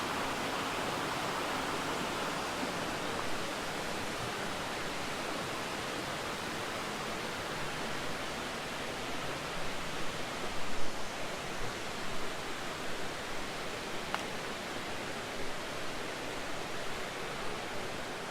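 Bear Creek flowing out of Bear Swamp near Carpenter Falls, a steady broadband rush of running water close by, continuous and even throughout with slight surges midway.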